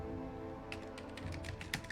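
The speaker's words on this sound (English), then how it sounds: "let me go ahead and type it down" Keys on a computer keyboard are struck in a short, quiet burst of irregular taps, close by, over a steady low background hum.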